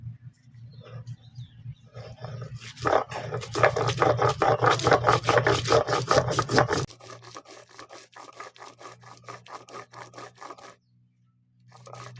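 Dried red chili, white mustard seed and cumin are ground into paste on a stone, with a rhythmic back-and-forth rasping scrape, loud and close at first, then lighter, quicker strokes before stopping.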